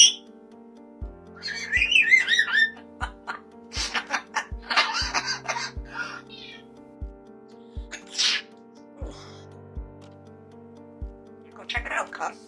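A talking parrot vocalizes in bursts of squawks, whistles and chatter, close and fairly loud, with a steady ticking beat and background sounds running beneath.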